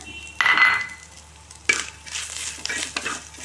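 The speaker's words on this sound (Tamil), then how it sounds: "இது நல்லா வதங்கட்டும் தேங்காய் நல்லா வறுத்துக்கோங்க" Grated coconut frying and being stirred in a pan for village-style pirandai chutney: a bright sizzle with scraping spoon strokes, rising in bursts as the mixture is turned, close and fairly loud with no talking.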